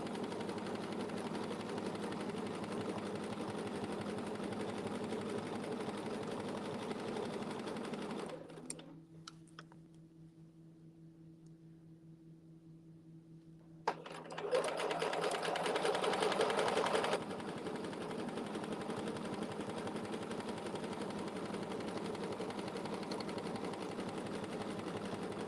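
Sewing machine stitching a quilt border in ruler work, a steady loud whirring drone that stops for several seconds, resumes with a brief faster burst, then runs on evenly.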